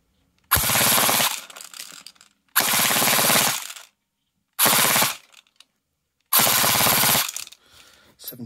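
A Tokyo Marui Scorpion Mod. D airsoft gun fires full auto at about 18 rounds a second on a 7.4 V LiPo battery, in four loud, close rapid bursts separated by short silences.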